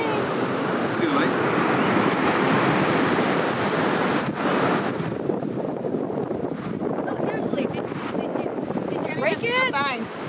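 Steady broadband roar of ocean surf at a beach, rushing continuously with wind buffeting the microphone, and faint voices and small sounds near the end.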